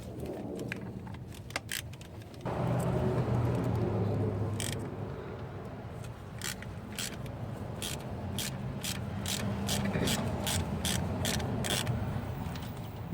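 Ratchet loosening 10mm thermostat housing bolts on a Honda Civic, repeated close clicking pawl bursts with metallic tool clinks over a steady background hum.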